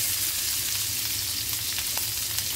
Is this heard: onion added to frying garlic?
yes